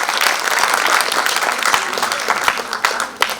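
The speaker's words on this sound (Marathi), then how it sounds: "सगळ्यांसाठी पुन्हा एकदा पण जोरदार टाळ्या वाजवूया." An audience at a Diwali morning music concert applauds a singer and chorus, dense sustained clapping from a crowd, loud and steady, thinning slightly toward the end with a few sharper claps.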